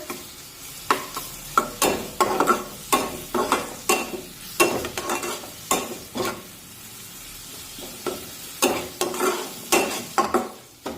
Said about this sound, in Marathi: आले लसूण पेस्ट सुद्धा व्यवस्थित कांद्यासोबत परतून घेऊया